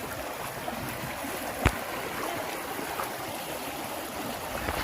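A river flows at night in the rainy season, giving a steady, soft rushing wash of water with one brief sharp knock partway through.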